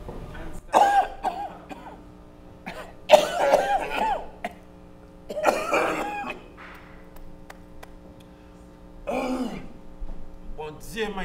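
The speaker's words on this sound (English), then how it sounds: "Your cough, a cough." Several harsh coughs and throat-clearing bursts come in separate spaced fits from a person in an indoor domestic scene of a police drama, with quieter gaps between them.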